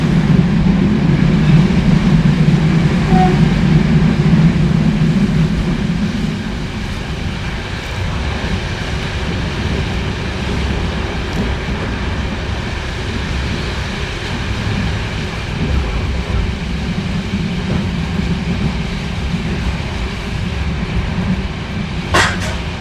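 Steady low rumble inside a long-distance passenger train travelling from Bulgaria to Romania, a continuous droning roll that eases slightly after a few seconds, with a brief clatter near the end.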